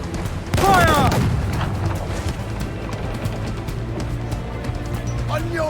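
Ship cannons fire during a naval battle in Assassin's Creed IV Black Flag: one heavy, close boom bursts out and rolls into a rumbling tail. Crew voices shout over the steady roar of sea and wind.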